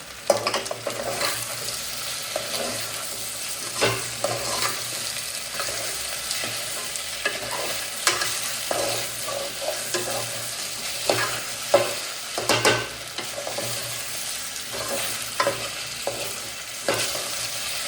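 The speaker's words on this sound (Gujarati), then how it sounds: "આવી રીતે આપણે હલવતા જશે ને તો આપણે બટેકા પણ મસ્ત મજાના તેલ સાથે રાઈ સાથે મિક્સ થઈ જાય" A spoon stirs potato chips frying in oil with mustard seeds, with steady sizzling and repeated scraping clatters against the pan, close up and continuous.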